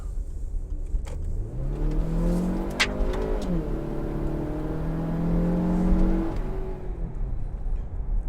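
A 2013 Range Rover Evoque with a 2.0-litre aluminium turbocharged engine accelerates on a test drive, its steady engine note climbing in pitch, dipping briefly at a gear change, then rising again before easing off.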